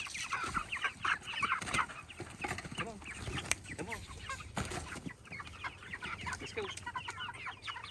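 A flock of chickens clucks and chatters busily around a chicken tractor on a farm in the morning, fairly faint and continuous, while a person calls to them over the birds.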